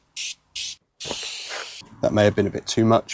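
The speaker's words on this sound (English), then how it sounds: "I'm also going to spray the van itself with this anti-spatter spray." Two short bursts of aerosol anti-spatter spray hiss onto a van, then a longer continuous spray, followed by a person speaking close by.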